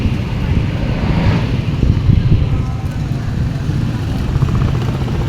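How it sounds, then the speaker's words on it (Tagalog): Strong wind roars outdoors as a continuous low, buffeting rush that hits the microphone and swells and eases, with a person speaking over it. "malakas pa ang hangin guys"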